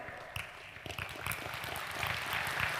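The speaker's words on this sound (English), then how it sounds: "You're clapping for yourself." An audience claps and applauds at a meditation session during a youth festival, a dense, steady wash of many hands that swells slightly toward the end.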